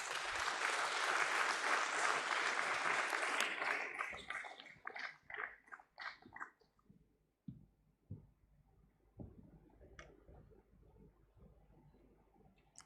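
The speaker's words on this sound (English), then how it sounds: "A round of applause." Loud, dense audience applause at a stock exchange IPO listing ceremony for Uniparts India, breaking off after about four seconds into scattered individual claps, then a quiet room with a few stray sounds.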